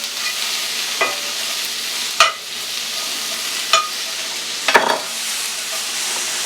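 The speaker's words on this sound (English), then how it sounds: "So I'm going to saute these veg up a little bit." Vegetables sautéing in a pan for pan pizza, a steady hiss of frying with several sharp scraping stirs spaced a second or so apart, close, with no voices.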